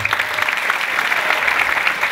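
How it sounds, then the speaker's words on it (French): A crowd at an evening militant rally applauds loudly and continuously, a thick, close wash of many hands clapping with no voices standing out. "vous pouvez l'applaudir."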